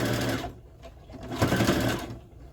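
A sewing machine stitches fabric for an apron with a quick mechanical whir, a short burst, a pause, then another run close up.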